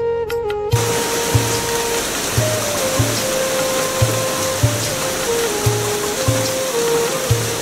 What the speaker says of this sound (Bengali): বৃষ্টির টুপটাপ শব্দ যেন এক নিস্তব্ধ সুরের গান।